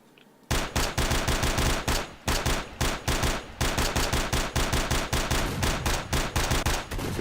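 Loud bursts of rapid gunfire from bandits ring out in a shooter game set in a wasteland zone. Short volleys repeat steadily with brief pauses in between.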